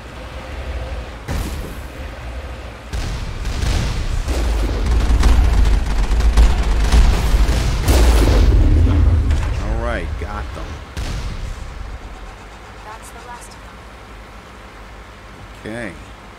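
Missiles exploding in the Mass Effect video game during the Ilos approach, with a run of loud, booming blasts building in the middle and then fading, under and between spoken commentary.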